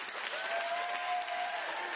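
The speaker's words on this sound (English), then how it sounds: "And then, the audience applauds" Audience applause at a political event, a steady, dense wash of clapping held at even loudness throughout, with a faint sustained tone running beneath it.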